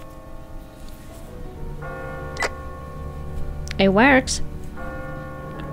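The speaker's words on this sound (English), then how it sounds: "They hear the fucking bell anyway" A bell rings out in The Walking Dead video game, a few resonant metallic strikes with lingering hum beneath a short spoken remark and other voices.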